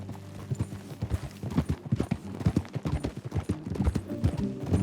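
Horse hooves in Red Dead Redemption 2 clip-clop in a steady, close, even rhythm throughout, with no voices over them.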